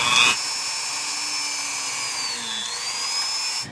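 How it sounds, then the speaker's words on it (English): A high, steady whine of a small drill with a 1/16 bit boring into a resin coaster, running continuously, with a slight pitch dip midway before it climbs back up. "I'm going to drill it right into the middle there"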